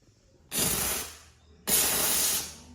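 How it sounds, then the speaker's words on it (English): Two strong bursts of hissing steam from a Karcher SC3 steam cleaner, each lasting about a second with a short pause between, loud and close with no talking. "Super good steam pressure again."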